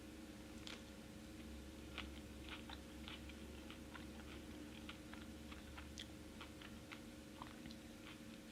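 Soft, close chewing and biting on a Bourjasotte Grise fig, irregular quiet crunches and wet mouth clicks spread over several seconds against a low steady hum.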